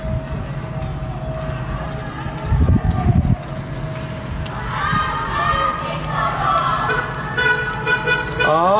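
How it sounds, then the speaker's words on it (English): Cars honk along a street during a protest in Iran, several horn toots rising over a steady crowd and traffic murmur, with a cluster of repeated honks building toward the end. "Cars are honking with excitement."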